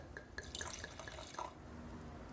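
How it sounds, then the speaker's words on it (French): Old wine from a 2000 vintage poured in a small amount into a glass: faint, close trickling and light dripping with a few bright glassy splashes, then fading into a quiet background, no speech. "je vais m'en verser une goutte dans mon verre pour le tester"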